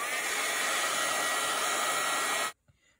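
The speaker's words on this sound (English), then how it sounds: "now we're gonna get out the heat gun and give that a dry" Steady loud whirring blast of a heat gun drying paint, running continuously alone before switching off abruptly, followed by brief faint handling noise.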